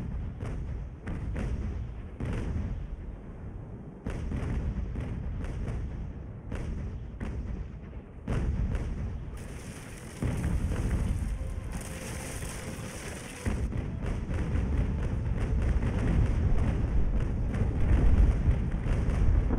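Cannons from two ships of the line in the naval game Ultimate Admiral Age of Sail, British campaign, fire in dense, repeated heavy booms and thuds. The rumbling barrage rolls on for about twenty seconds, loud and continuous, with the roar thickening toward the end.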